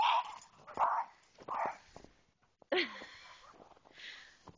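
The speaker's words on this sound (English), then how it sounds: "Oh, Indy, you are a funny dog." A dog playing fetch with a big stick outdoors gives several short barks and yips, close and moderately loud, with gaps of quiet between them.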